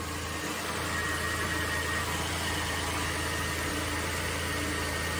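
A flood-damaged Buick Rendezvous engine runs at a steady, rough idle after being revved, a constant close mechanical drone with hissing exhaust noise, no voices.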